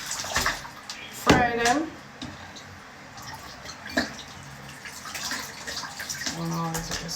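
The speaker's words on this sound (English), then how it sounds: "Get the water run out of the sink." Water runs and splashes out of a kitchen sink tap while a Sunday dinner is being cooked, a steady wash of noise with a few brief clatters, under intermittent talk.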